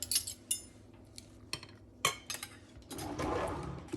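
Spoons clink and tap against bowls and dishes while breakfast burritos are assembled: a few sharp, bright metallic chinks spaced apart, then a rougher rustle and clatter at the end, close and without speech.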